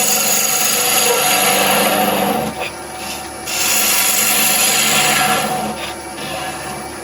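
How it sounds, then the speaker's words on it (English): A wood lathe spinning a goblet blank at 1400 RPM, a tool rubbing and scraping across the surface in a steady, loud, close rasp with two short dips in the sound. "So lathe speed here, I'm up to 1400 RPM. We're just going to clean that surface."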